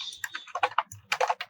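Typing on a computer keyboard while writing Python code: a short run of quick, soft key clicks and taps at an uneven pace, close and fairly quiet, with no speech.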